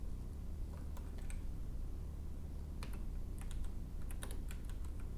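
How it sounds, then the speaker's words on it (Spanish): Quick, uneven keystrokes clatter on a computer keyboard in a short burst of typing, close and fairly quiet over a low background hum. "Uy, teclado."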